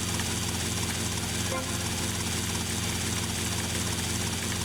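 Helicopter engine in GTA Vice City, running steadily and loud throughout with a dense rotor-and-turbine roar and no pauses, while the aircraft is trailing black smoke.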